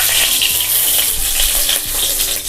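Steady crackling sizzle of fennel seeds frying in hot oil, close and continuous, with small pops scattered through it.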